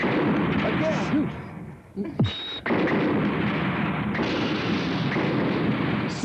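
Gunfire rings out in a battle scene against a monster in the Japanese tokusatsu TV series Spectreman. Loud, repeated blasts and bursts come over shouting voices, with a brief lull and a sharp zap partway through.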